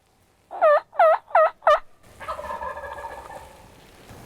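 Wild turkeys sound off outdoors during a spring hunt: four sharp, rapid gobbles ring out clearly at mid distance, then softer hen calls chatter on afterward.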